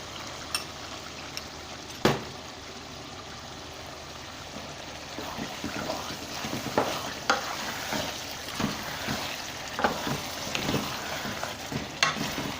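Whisked yogurt goes into frying qeema matar, minced meat with peas, as it is stirred, giving a steady sizzle broken by occasional scraping stirs and sharp clinks from the pan.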